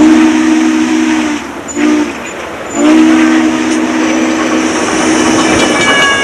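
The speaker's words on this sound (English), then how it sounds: "Doyle laying on the whistle all the way" The Daylight Express steam train's whistle sounds in long sustained blasts near Albany, Oregon, as it crosses Old Highway 99, with a short break before a longer blast and the rumble and clatter of the train running underneath.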